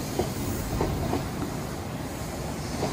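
An Odakyu Line train nears Fujisawa station as a steady rumble of rolling wheels with faint rhythmic clickety-clack over the rails, moderately close and continuous, with no voices.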